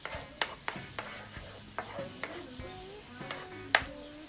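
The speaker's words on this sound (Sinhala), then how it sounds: "ඒක විහිදලා හැඳි ගා ගන්න." A spoon scrapes and knocks against a pan as pork is stirred and fried with ginger and garlic in oil, irregular close clacks over a soft, steady sizzle, with no voices.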